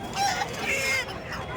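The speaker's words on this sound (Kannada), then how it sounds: "ಇಲ್ಲೇ ಇಲ್ಲಿ ಎರಡು ಕೋಳಿಗಳಿದ್ದಾರೆ" Chickens and roosters cluck at an outdoor poultry market in Kundarapalli, a short burst of close, busy clucking with a slight crow-like call over low background murmur.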